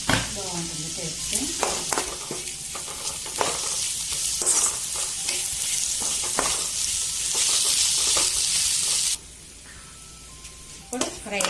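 Ground coriander, turmeric and rock salt frying in a pan for a pepper mushroom gravy, a continuous close sizzle with stirring clinks and scrapes, and a voice speaking over parts of it.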